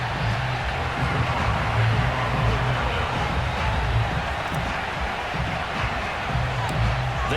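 Dense crowd roar from a Buffalo stadium in an EA Sports NFL game, a broad continuous wash of cheering with a low rumble beneath, while a commentator speaks over it.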